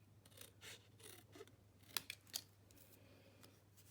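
Scissors trim close to the edge of a label for a small Easter basket, making soft, close snips and a few crisper cuts over a low background hum, with no talking.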